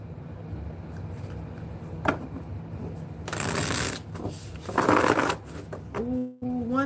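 A deck of cards is shuffled by hand during a tarot-style reading, with soft riffling bursts and rustling repeating close to the microphone over a low background hum.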